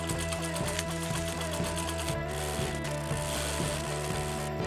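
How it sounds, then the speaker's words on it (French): Sewing machine stitching a small folded hem along the edge of a bag, a steady loud mechanical whir with rapid rhythmic needle clatter running throughout, close and alone. "Avec la machine à coudre, on a fait un petit pli avec le bout du sac pour éviter qu'il se découse."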